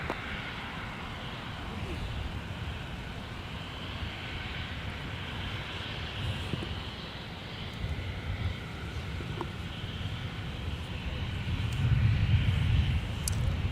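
Airbus A330 jet departing MSP airport, a broad, steady engine roar heard from a distance that swells slightly toward the end, with faint wind noise over the microphone and occasional voices nearby.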